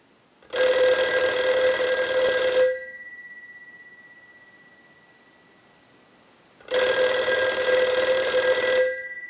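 A telephone rings from a ring cycle sent by a line analyzer, two long electronic bell bursts of about two seconds each, separated by a quiet gap of roughly four seconds, loud and close.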